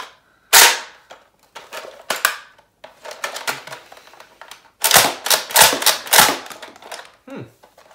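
A Nerf Rukkus ICS-8 foam dart blaster slam fires in a burst of sharp, snappy mechanical cracks: a loud opening shot, then uneven clusters of quick clacks heard up close with no talking.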